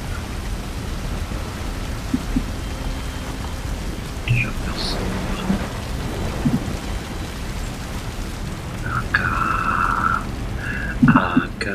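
Video game audio from Call of Duty: Modern Warfare 3: steady rain hisses over a low rumble of distant thunder, with a few faint tonal blips and soft noises scattered through.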